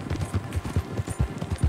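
Horse hooves clip-clopping close by in a steady, rhythmic walk of repeated dull thuds, with no talk over them.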